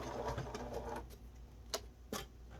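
A sewing machine back stitches a seam on a fabric mask with an aluminium nose strip, a short faint whirring run followed by a few sharp isolated clicks, close and quiet.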